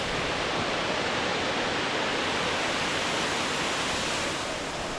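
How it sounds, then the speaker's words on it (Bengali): Water pouring from the gates of Baranti Dam, a dense, steady roaring rush of falling water that stays loud and unbroken throughout. "দেখুন এই যে জল পড়ছে।"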